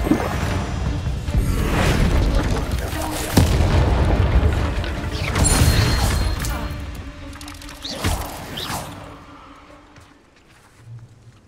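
Bombarda blasting spell exploding in Hogwarts Legacy, a series of loud booming blasts and crashes with rumbling tails, several bursts spaced across the stretch before fading out.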